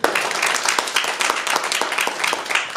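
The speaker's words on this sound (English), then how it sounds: "They are, and applause is recommended, Phil Cohen, Tim Kroll," Crowd clapping at a Hoboken 5th Ward council candidate debate, a thick, continuous burst of applause filling the room at an even level from start to finish.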